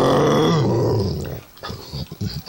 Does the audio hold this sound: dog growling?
yes